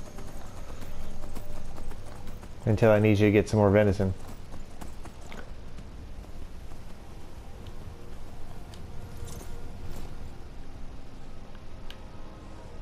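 A horse in Skyrim, its hooves clopping briefly in a short rhythmic burst with a whinny-like tone, under a voice talking over quiet game ambience.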